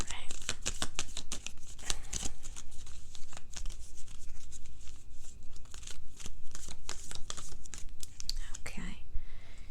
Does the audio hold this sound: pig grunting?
no